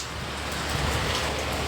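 Rain falls steadily on a rainy night, a dense, even hiss that stays constant throughout with no voices.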